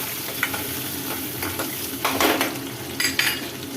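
Garlic and small shallots sizzle in hot oil for a taro curry while a spoon scrapes and stirs the pan, with a few louder clattering strokes over a steady fry.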